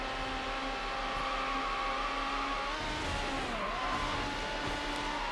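A synthetic engine of a McLaren F1 LM in Need for Speed: Hot Pursuit 2 on PS2 whines and revs continuously, its pitch sliding up and down with gear shifts, moderately loud with no talking.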